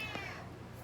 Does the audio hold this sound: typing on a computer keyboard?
no